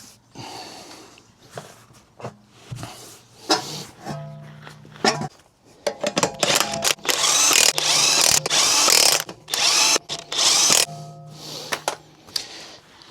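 Power tool driving the wheel nuts back onto a Crafter or Sprinter van wheel, heard as several short bursts of whirring and ratcheting with clicks and pauses between them, close by.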